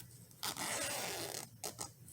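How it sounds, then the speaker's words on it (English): A zipper on a handmade Christmas tree purse is pulled open about three-quarters of the way, a close, quiet rasping run followed by two short tugs. "we're going to open our zipper about 3/4 of the way"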